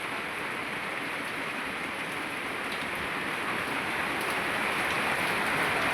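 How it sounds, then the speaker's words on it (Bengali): Heavy rain pours down steadily outside a home, a dense continuous hiss of drops on surfaces that holds even and slightly swells, with no voices. "এখন বৃষ্টি অনেক জোরে নামছে"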